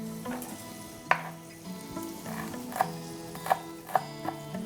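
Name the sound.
vegetables frying in oil, shaken and stirred in frying pan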